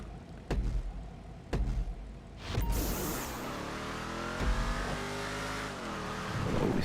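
A race car in GTA Online speeds along a custom Wreckfest-style track, the engine revving up in a loud sustained roar after a few short bursts, rising and falling in pitch with nearby thumps.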